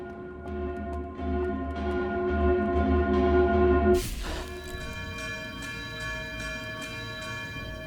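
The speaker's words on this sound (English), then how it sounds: "That's what sets the bell off." A deep bell tolls in the Outer Wilds video game, its low resonant tone sustaining with a rising swell before a sharp strike at about four seconds sends out a bright, ringing decay.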